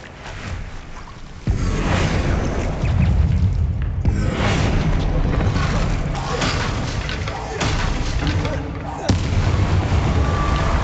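Confringo and Bombarda spells fired in the Hogwarts Legacy video game, heavy booming blasts and crashing explosions in quick succession, loud and close, with rumbling debris between impacts.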